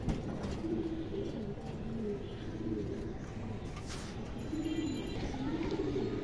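A pair of khaki Indian kaldom highflyer pigeons coo softly in low, repeated rolling phrases over steady background noise.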